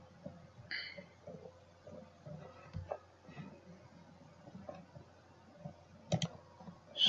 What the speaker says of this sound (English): Then click continue.